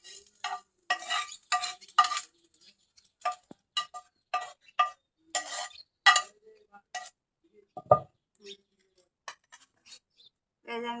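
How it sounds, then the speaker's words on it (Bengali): A spatula scrapes and stirs in a pan of frying taki fish with garlic and onion: a series of short, sharp scraping strokes with brief pauses and an occasional metallic clink, close and fairly quiet. "এই যে আমি ভাজে নিচ্ছি, এখন আমি ভর্তা করবো।"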